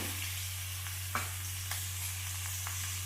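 Carrots, beans and capsicum frying with curry leaves for veg fried rice, making a steady moderate sizzle alongside a low constant hum, with a few sharp clicks of stirring.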